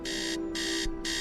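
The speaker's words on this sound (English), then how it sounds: "I hate the sound of alarms." An alarm clock in Tales of the Neon Sea beeps loudly in rapid pulsing bursts. The bursts repeat twice in close succession over a steady electronic hum.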